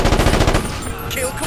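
Rapid bursts of automatic gunfire in Ghost Recon Advanced Warfighter, a dense rattling volley of close shots in the first half, then easing into a rumbling combat background.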